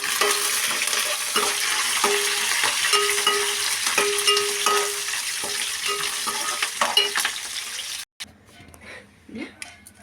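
Curry leaves and seasonings frying in a pan for Bombay rava upma, a loud crackling sizzle with stirring scrapes that cuts off abruptly, followed by quieter clinks and handling noises.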